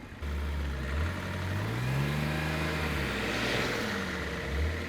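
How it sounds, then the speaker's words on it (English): A BMW E46 M3 spins its wheels in mud, the engine revving with a rising and falling pitch at moderate distance, steady and sustained without speech. "I thought maybe Mark was wheel spinning."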